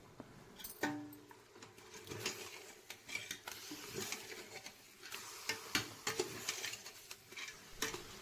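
Chicken is stirred in hot oil in a pan for a pressure cooker chicken pulao. Soft, faint sizzling runs under irregular scrapes and clinks of a spoon against the pan, close and quiet, with no voices.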